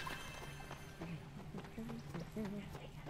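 Horse hooves clip-clop in the Toy Story 3 video game, steady light trotting beats heard under people talking.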